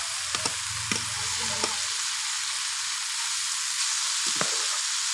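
Leafy greens fry in a pan with a steady, even sizzle, punctuated by a few soft taps and scrapes from stirring, close and moderately quiet.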